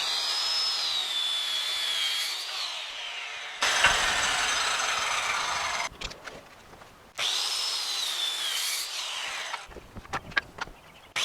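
Wooden boards being cut with a hand-held power saw: two long, loud whining cuts, each ending in a drop-off, with clattering and handling knocks between them and after.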